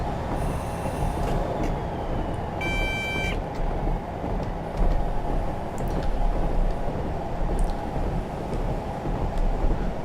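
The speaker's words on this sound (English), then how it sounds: "this variant does have new physics and sounds recorded from the Class 37 on the Wensleydale Railway" Class 37 diesel locomotive in the Train Simulator game, with sounds recorded from a real Class 37 on the Wensleydale Railway: a steady, loud rumble of engine and rolling wheels, with a brief high tonal squeal near the start.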